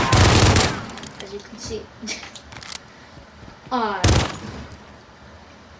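Rapid gunfire from a weapon in the video game Loudout, with dense bursts at the start and again near the end, broken by sharper single shots and clicks, while a person speaks briefly in between.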